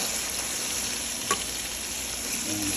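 Pork steak sizzling steadily in a frying pan, a constant close hiss with a faint scrape of stirring near the middle.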